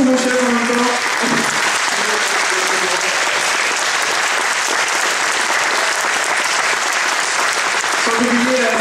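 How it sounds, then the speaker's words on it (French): A concert audience applauds steadily and loudly throughout, a dense wash of clapping honoring the conductor and the new conductor, with a voice speaking briefly at the start and again near the end. "on peut applaudir le chef et le nouveau chef en même temps"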